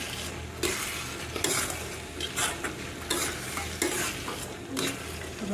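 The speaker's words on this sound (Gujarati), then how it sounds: "હવે એને મિક્સ કરી લઈશું" Spoon stirring garam masala into a peanut curry in a pan, with a steady low sizzle and repeated scraping strokes every second or so, close up and alone.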